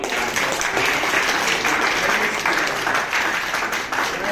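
An audience at a book launch applauds steadily, a dense, sustained burst of many hands clapping together at full strength with no pause.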